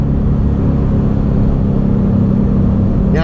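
A Porsche 911 GT3 RS on the road gives a steady, loud, low engine drone at near-constant revs, heard from close up and alone, with a brief rising whine right at the end.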